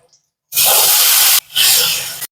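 Spice paste dropped into hot oil with cumin and a bay leaf in a wok gives a sudden loud hiss, which stops briefly and then bursts again and fades, close to the pan.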